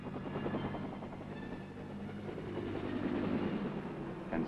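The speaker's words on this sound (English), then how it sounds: "The Huey takes off like an angry hornet." A Huey helicopter flies with a steady, rapid rotor thump and engine drone at moderate distance, continuous and building slightly, with no talk.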